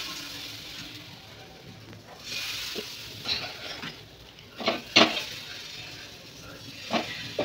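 Patishapta batter is poured onto a hot griddle pan, set over a home stove, giving a soft low sizzle with a few light scraping and stirring clinks, quiet and close, with no talking.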